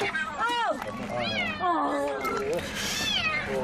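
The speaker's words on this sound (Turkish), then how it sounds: "Yavru kedi aracın jantına sıkışmıştı." A kitten trapped in a car's wheel rim meows repeatedly in rising and falling cries, fairly close, with a murmur of people talking and bustle around it.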